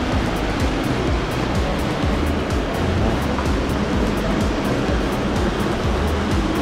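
A water fountain splashes in a steady, dense rush that holds continuous and fairly loud for the whole stretch, with no voices over it.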